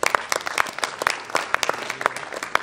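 A sparse audience claps for the fighters at a boxing weigh-in: scattered, uneven claps from a modest crowd, near and distinct, with brief gaps between them.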